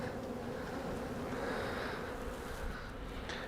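A swarm of honeybees hums steadily around a hive box during a swarm capture, a dense, continuous buzz that stays close and even throughout with no voices.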